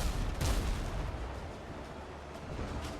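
Ship cannons boom in a WindRose naval battle, a dense, rumbling barrage with a strong blast near the start that settles into sustained low roar and crackle.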